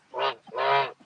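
Two loud, drawn-out honks close by, the second longer than the first, with short breaths of quieter calling in between and no talk; the ducks sound goose-like.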